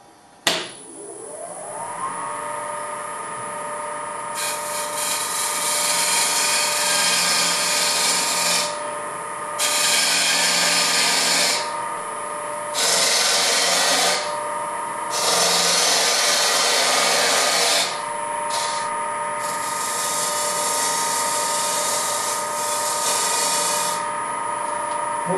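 Wood lathe spinning a salt shaker blank, a steady motor whine with bursts of scraping and hissing as the tool bites the turning wood, continuous and close.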